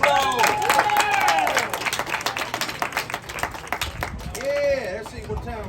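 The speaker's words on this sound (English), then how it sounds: "Give yourselves all a round of applause." Crowd at the Ghost Town Alive live show at Knott's Berry Farm clapping and cheering for several seconds, dense and steady at first and thinning toward the end, with voices shouting over the applause.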